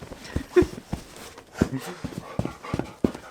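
Dogs nearby make short, scattered yelps and panting sounds amid shuffling and thumps, with brief bursts of voices mixed in.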